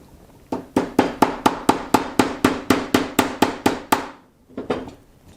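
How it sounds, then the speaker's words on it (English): Sharp, evenly spaced hammer blows drive a pin into a CZ83 pistol during reassembly, about fifteen quick taps in a steady rhythm, then a brief pause and a few lighter taps at the end. "you can hammer that in"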